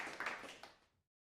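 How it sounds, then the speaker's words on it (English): A soundboard clapping effect, a short burst of studio-audience applause about one second long that quickly tapers into silence. "We got a soundboard, some clapping."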